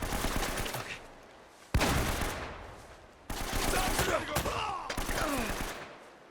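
Several loud, abrupt pump-action shotgun blasts in quick succession in the video game Uncharted: Drake's Fortune, each followed by a ringing decay, with faint voices in between.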